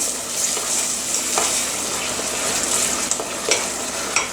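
Pasta sauce is stirred in a pan with a soft steady sizzle, and a few light scrapes and clinks of the utensil can be heard close by.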